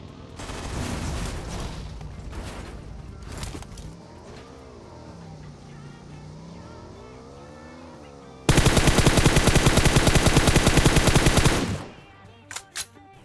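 A long burst of rapid automatic gunfire in PUBG Mobile, loud and continuous for a few seconds, preceded by a buggy engine revving and followed by a few scattered shots.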